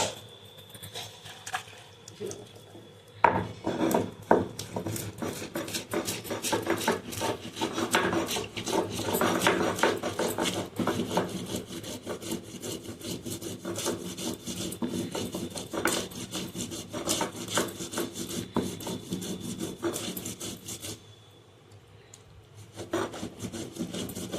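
Whole spices, black pepper, garam masala and cinnamon, are ground by hand, giving close, rhythmic rasping and scraping strokes that repeat steadily, pause briefly near the end, then resume.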